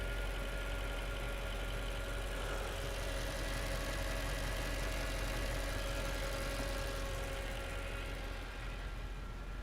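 A car engine idling with a misfire, running continuously and fairly steadily close by for the whole stretch, a low rumble with faint irregular knocks and no talk.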